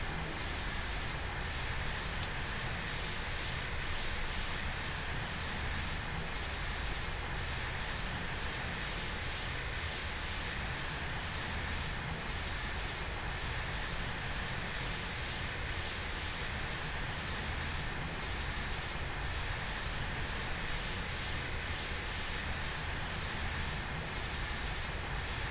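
Steady jet engine roar of a T-38 Talon in a flight simulator, a constant broadband rush with a high whine, loud and unchanging throughout with no voices.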